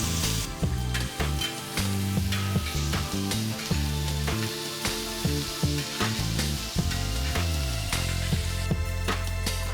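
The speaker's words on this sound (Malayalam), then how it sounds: "നമുക്ക് ജിഞ്ചർ ഗാർലിക് പേസ്റ്റ് ഇട്ട് കൊടുക്കാം" Crushed ginger-garlic paste frying in a pan with fenugreek, fennel seeds and star anise for a Kerala-style duck curry, giving a steady, continuous sizzle beneath background music.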